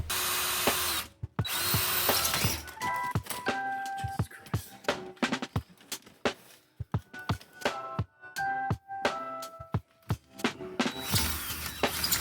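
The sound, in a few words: power drill drilling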